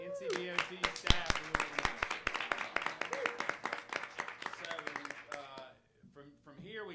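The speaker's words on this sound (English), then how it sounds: "So how about another round of applause for Tanner?" A conference crowd applauds with dense, sharp claps mixed with cheering voices, fading out near the end as a few voices carry on.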